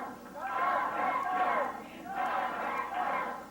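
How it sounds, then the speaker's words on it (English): A Memphis wrestling arena crowd roars and cheers for Dutch Mantell in two swelling waves of shouting and yelling, a dense wash of voices filling the hall. "Crowd getting in behind Dutch Mantell."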